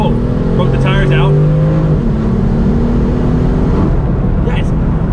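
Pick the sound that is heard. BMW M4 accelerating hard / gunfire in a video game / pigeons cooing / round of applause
BMW M4 accelerating hard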